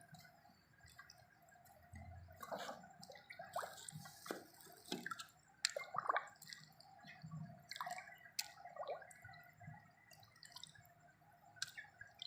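Soft water sounds of ND Lasota vaccine powder being dissolved in water in a bottle: faint drips, swirls and small splashes, quiet and close, with no talking.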